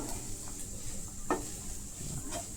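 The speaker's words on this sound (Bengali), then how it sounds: "এবার এর মধ্যে এক এক করে লবণ, হলুদ এগুলো অ্যাড করবো, একটু ভালোভাবে কষিয়ে নেবো।" Chickpeas are sautéed with salt and turmeric in a home kitchen pan, giving a faint, low sizzle. A single scraping stir of the spoon stands out midway, with no voices.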